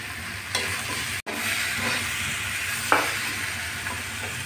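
Eggplant and slit green chilies are stirred in a wok, with a soft ongoing sizzle under scraping strokes of a spatula and a few sharper clinks against the pan.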